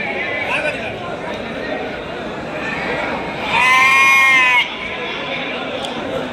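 A sheep lets out one loud, close bleat amid the steady murmur of a crowded Saturday livestock market in Angallu, with people talking throughout.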